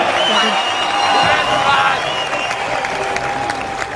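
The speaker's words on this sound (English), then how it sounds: "big round of applause for your winner, Paddy the Paddy Pimblett" A Cage Warriors MMA crowd applauds and cheers the winner, Paddy Pimblett, loud sustained clapping mixed with whoops and shouts, while an announcer's amplified voice runs over the top.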